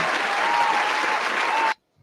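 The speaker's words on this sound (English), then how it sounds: "Let me applaud you." Steady burst of clapping from a group, loud and dense, lasting under two seconds before cutting off abruptly to silence.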